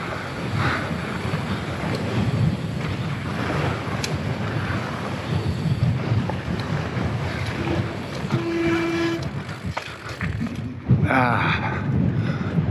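Strong, steady wind on the mountain top at Mammoth Mountain Bike Park roars and buffets the microphone without letup, a dense continuous rush throughout.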